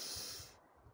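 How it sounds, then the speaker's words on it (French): A single deep inhaled breath, a soft airy hiss up close lasting about half a second before fading into quiet. "on prend une grande inspiration"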